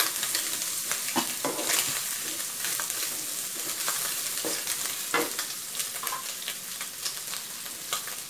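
Thai fish balls stir-fried with fingerroot and bamboo shoots sizzle steadily in a hot pan, with continuous frying crackle and repeated scraping stirs throughout, no talking.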